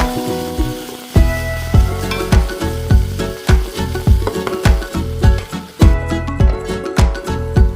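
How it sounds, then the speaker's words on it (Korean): Onion and sliced red chili stir-frying in an oiled pan, a steady loud sizzle broken by repeated scraping stirs at a quick, regular rhythm, close up with no voices. "팬에 기름을 두르고 양파와 홍고추를 먼저 볶아 놓습니다."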